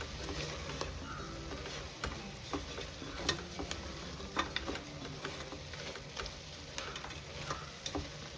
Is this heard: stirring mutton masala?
yes